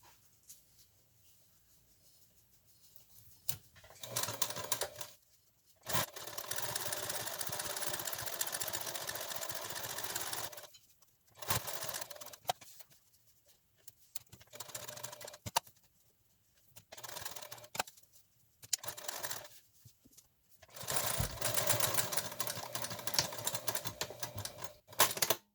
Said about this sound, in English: we're going to sew this seam to the webbing.